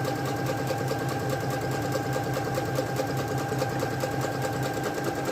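A Singer SY102 sewing machine stitching at full speed, a steady rapid mechanical whir and ticking rhythm close by with no pauses.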